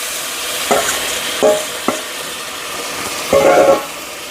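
Boiled toor dal being stirred into drumstick sambar in a pot, a few separate wet stirring and scraping strokes over a steady low background hiss, no voices.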